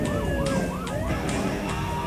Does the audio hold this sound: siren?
yes